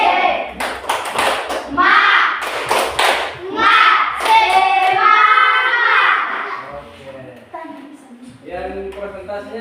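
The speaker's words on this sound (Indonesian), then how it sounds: "Tepuk semangat." Classroom children do a rhythmic spirit clap, a quick patterned run of loud hand claps, followed by children's voices chanting and talking.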